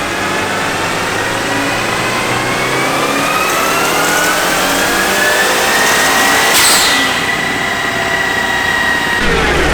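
A Mitsubishi Evo on its stock turbo revs hard and loud during a dyno pull, the engine note climbing steadily for several seconds before a sharp burst near the end.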